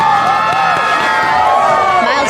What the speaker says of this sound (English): We got such an epic crowd right now